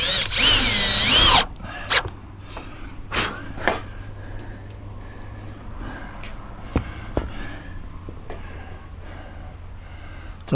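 A power drill drives self-threading screws into a metal roof panel, one loud whirring burst at the start followed by scattered clanks and knocks on the metal.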